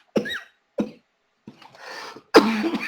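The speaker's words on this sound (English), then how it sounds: "sorry about this coughing" A man coughs several times in short separate bursts, then gives a harsher final cough and throat clear, close and loud in a quiet room.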